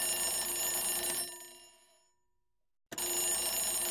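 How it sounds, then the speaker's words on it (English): A digital alarm clock built in JavaScript sounds its alarm: a loud, steady electronic ringing tone that cuts off abruptly, falls silent for about a second, then starts ringing again at full volume. "now you can able to hear that alarm sound"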